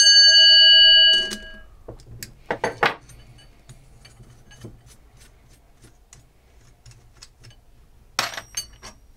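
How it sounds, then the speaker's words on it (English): A bell comes off an early Scottish tall case clock, opening with a sustained metallic ring that cuts off, followed by scattered small clinks and taps of metal parts against each other, close and quiet in between. "Let's take our bell off here."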